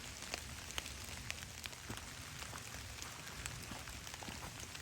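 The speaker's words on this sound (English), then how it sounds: "I don't particularly enjoy getting rained on, but it's just sprinkling." Light rain sprinkles steadily outdoors, a dense soft patter with scattered sharper drops hitting nearby surfaces, continuous and fairly quiet with no talking.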